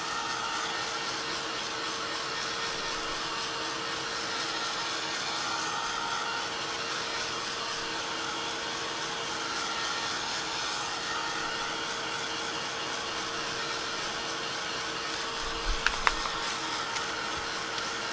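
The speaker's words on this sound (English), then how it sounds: "I'm going to hit it with a little bit of heat just to make sure we get it dry" Heat tool blowing steadily to dry paint on a painted paper bag, a constant close whirring hum with a faint tonal whine that runs unbroken throughout, with a few small knocks near the end and no talk.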